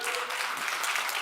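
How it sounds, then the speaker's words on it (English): Brief applause from an audience at a marketing talk, a steady patter of clapping, moderately distant. "A round of applause for that."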